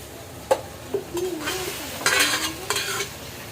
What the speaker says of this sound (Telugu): ఇప్పుడు నూడిల్స్ అయితే ఇందులో వేసేసుకుందాము